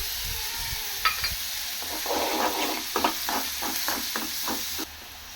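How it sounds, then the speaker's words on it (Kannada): Onions frying in a pan for aloo paratha filling, a steady sizzle with a run of rhythmic stirring scrapes and clacks in the second half, close and moderately loud, with no talking. "ಈರುಳ್ಳಿ ಸ್ವಲ್ಪ ಫ್ರೈ ಆಗಬೇಕಷ್ಟೇ"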